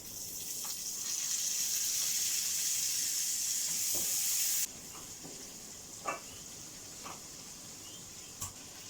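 Butter melting into a pot of cooking dried beans gives a loud, steady hiss and sizzle that drops in level partway through, continuing more quietly with a few faint clicks.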